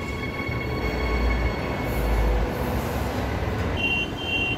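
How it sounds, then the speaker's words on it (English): Transperth EMU electric train, sets 59 and 105, running through Currambine station on a Perth service: a steady, loud rolling rumble of wheels on rail with a faint high whine, no talk. "EMU is 59 and 105, I think, leading a service to Perth"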